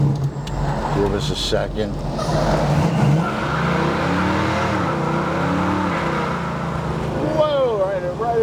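A 1973 Plymouth 'Cuda's engine revs and accelerates on the road, a loud rising drone that climbs in pitch through the gears, with someone talking over it briefly at the start.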